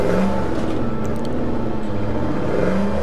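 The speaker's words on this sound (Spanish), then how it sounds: "hago mucho ruido, eso es lo malo de este coche" A loud, noisy car engine droning steadily in the zombie survival game State of Decay 2, with a constant whirring hum and slight shifts in pitch as it runs, alone without talk.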